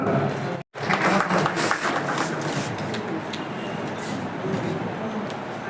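An audience at the first Ambedkarite literary conference at Shivchhatrapati College in Pachod gives dense, sustained applause, with a brief dropout near the start.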